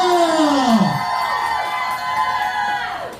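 An audience at a lively recreation event cheers and shouts together, a loud, sustained crowd roar with children's whoops rising at the start and holding steady before trailing off.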